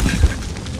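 A grenade blows up in the Call of Duty Warzone video game, a brief low boom near the start that settles into a rumbling tail.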